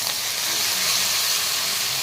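Tomatoes dropped into hot oil in a pan for a Tamil tomato gravy, giving a steady, loud broadband sizzle with a hissing, frying crackle that carries on without any talk.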